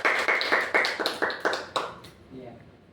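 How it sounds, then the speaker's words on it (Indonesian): Clapping for a student in a microteaching classroom, a short run of about seven rhythmic claps that slows and fades out, followed by a brief voice. "tepuk tangan buat Robi."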